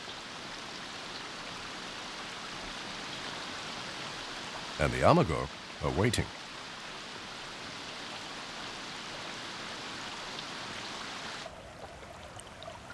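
Steady rain pours onto a stream's surface in a dense, even hiss, broken by two short louder bursts, with a brief spoken line over it and the downpour softening near the end.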